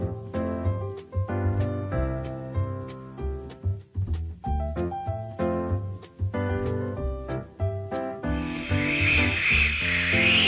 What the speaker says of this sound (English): When you press the lid, our patented one-way check valve removes excess air and keeps food fresh